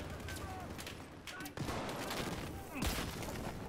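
Continuous gunfire from the video game Battlefield 4, with dense rapid bursts and booming shots under a steady roar of battle noise and a few whistling projectiles.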